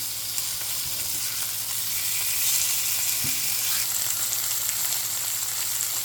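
Garlic onion chicken breasts sizzle and spit steadily in a hot pan, with a few soft clinks and scrapes as the pieces are turned over.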